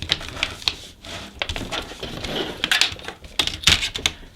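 Thin metal sheet being creased and folded by hand for a lightweight DIY reflector oven, giving a run of close, sharp crinkling clicks and taps with brief pauses between them.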